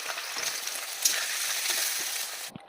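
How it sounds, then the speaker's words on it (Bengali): Carrot pieces fry in hot white oil, a dense, close crackling sizzle that stays steady, with a small stir clink midway, and it cuts off abruptly at the end. "তেলটা গরম হয়ে গেছে আমি এর মধ্যে গাজের কটাকে একটু ভেজে নেব"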